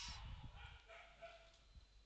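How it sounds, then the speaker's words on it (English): A dog barks somewhere close in a dark fantasy game setting, a few short low yaps clustered at the start and then fading into a steady ambient hum. "there is a dog barking, bro, somewhere close"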